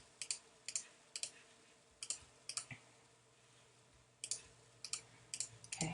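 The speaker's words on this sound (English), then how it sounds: "Click and blend, click and blend." A computer mouse clicking during photo editing, with crisp, close clicks arriving mostly in quick pairs, separated by short pauses, against a faint hum in an otherwise quiet room.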